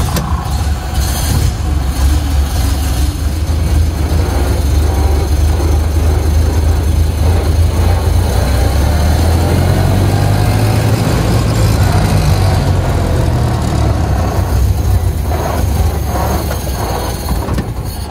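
A 1928 Ford Model A engine runs steadily throughout with a continuous low rumble, heard up close without any talk.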